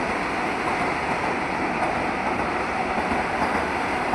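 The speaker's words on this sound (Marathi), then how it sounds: "बुलेट ट्रेन पण आलेली आहे." A fast train passing through a railway station sends out a steady, loud rumbling roar of rolling wheels that holds constant from start to finish.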